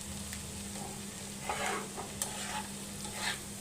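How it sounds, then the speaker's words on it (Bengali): Bottle gourd peel and potato stir-fry in a pan with a soft, steady sizzle and a few scraping stirs, fairly quiet throughout and without speech. "ভাজিটাকে ভালো করে এবার আমি ভাজা ভাজা করে নিব"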